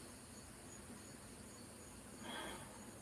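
Crickets chirp outdoors on a hot night, a faint, steady high trill that runs the whole time with no voices.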